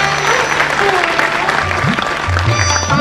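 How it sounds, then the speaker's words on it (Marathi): Loud, sustained applause from a festival audience at a Konkan cultural celebration in Mumbai fills the whole stretch, dense and steady, with a low voice briefly audible underneath. "थोड्या अजून जोरदार टाळ्या हातील तर"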